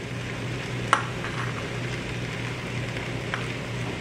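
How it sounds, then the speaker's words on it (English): Green and red capsicum and other vegetables for egg chowmein sizzle softly and steadily in a hot pan, with a couple of sharp clinks of a utensil against it. "saute the vegetables for another 3 to 4 minutes"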